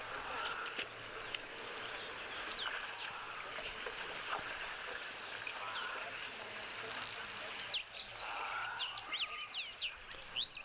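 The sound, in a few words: wild birds calling in nature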